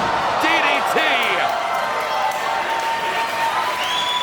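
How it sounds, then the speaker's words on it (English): Wrestling crowd at a VPW Spring Bash 2026 match between Meteor Kid and AN.D keeps up a steady, loud roar of cheering, while a commentator talks over it. "The crowd is rallying behind this rookie"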